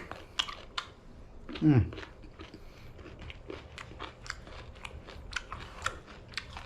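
Crisp salad vegetables being chewed close to the mic, with repeated crunchy bites and a brief low murmur partway through.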